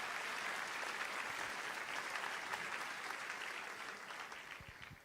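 A church congregation claps loudly and steadily during an evening worship service. The applause is sustained and dense from start to finish and eases only a little near the end.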